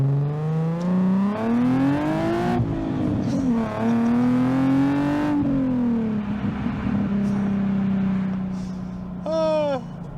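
Nissan 370Z with its VQ V6 revving hard under acceleration, pitch climbing through the gears with shift breaks, loud and close, then easing to a steady lower drone; a brief squeaky noise near the end.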